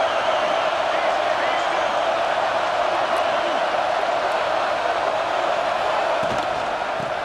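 Constant roar of a stadium crowd in the EA Sports College Football video game, Notre Dame vs Michigan, swelling for a red zone defensive stand, a dense continuous wash with no clear pauses and faint voices within it.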